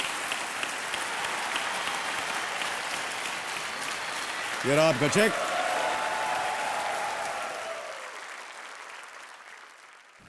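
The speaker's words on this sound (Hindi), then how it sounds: "तालियां बजती रहनी चाहिए इनके लिए।" A studio audience applauds on a TV quiz show, a loud, dense and continuous wash of clapping that runs for about nine seconds and then fades out. Someone speaks briefly partway through.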